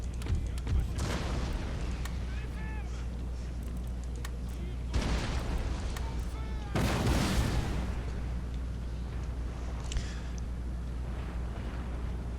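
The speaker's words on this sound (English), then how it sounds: "We'll let the howitzers deal with them in a moment." Howitzer artillery fire in a strategy video game set in royal France: several loud booming blasts with rumbling tails, separated by pauses, with a voice speaking over parts of the battle.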